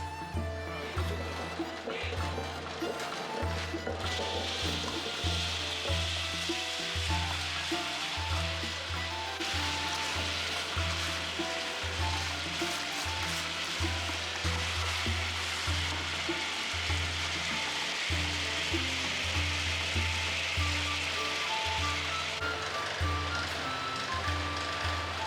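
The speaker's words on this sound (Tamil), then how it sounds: "உளுத்தம்பருப்பு இதை நாங்கள் ஆட்டுக்கல்ல அரைக்க போகிறோம்." An electric stone wet grinder churns urad dal in a small home workshop in Jaffna, Sri Lanka, with a steady rhythmic low thumping and a constant grinding rasp running unbroken and close.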